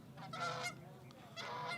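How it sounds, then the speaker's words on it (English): A couple of geese honk as they fly over a baseball field, several nasal calls in two bursts, moderately loud and clear. "as the Geese go by."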